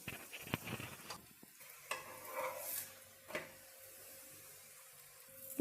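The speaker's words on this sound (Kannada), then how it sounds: "ಈಗ ಸ್ಟವ್ ಹಚ್ಚಿ ಒಂದು ಫ್ರೈ ಪ್ಯಾನ್ನ ಇಟ್ಕೊಂಡಿದ್ದೀನಿ. ನಾನು ಚಿಕ್ಕದಾಗಿ ಮಾಡಿರೋ ಅಂಥ ಪರೋಟನ ಸೇರಿಸ್ಕೊಳ್ತಾ ಇದ್ದೀನಿ." A small drumstick leaf paratha cooking in a frying pan on a stove, with a soft sizzle, a few scraping and clinking touches of a utensil against the pan, and quiet stretches between them.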